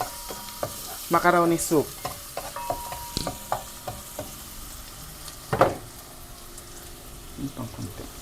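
Onions being stirred and fried in oil for a creamy macaroni soup, with bursts of scraping stirring and a soft sizzle under a quiet voice speaking at the start.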